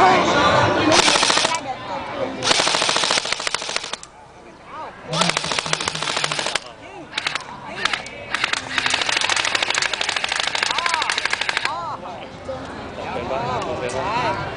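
Guns fired by kids, rapid bursts of loud gunfire in long runs separated by brief pauses, close and harsh, with people talking between and under the shots.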